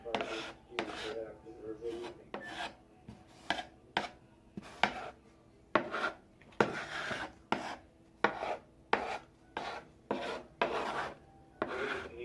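A Smith & Wesson Homeland Security Knife carves curly shavings from wood, with close, crisp rasping strokes repeating in a steady rhythm roughly every second.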